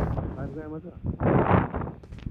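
A vehicle blows up in the battle royale shooter game Ultimate Royale: one short, heavy booming burst lands midway, surrounded by a player's talk.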